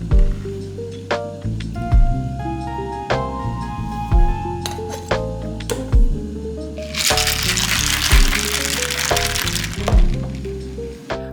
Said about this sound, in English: Fill with ice and shake until chilled.